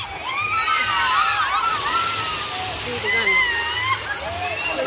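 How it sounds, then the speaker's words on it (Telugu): Water pouring down and splashing at a water park in Vizag, a loud continuous gush heard close up while excited voices and shrieks of people ride over it. "పైనుంచి వాటర్ పడిపోయింది ఫోన్ మీద."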